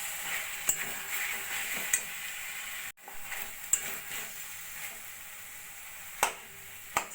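Reshmi chicken pieces fry in a pan with a faint, steady sizzle while a utensil stirs them, scraping and tapping against the metal a few times, close and quiet with no talking.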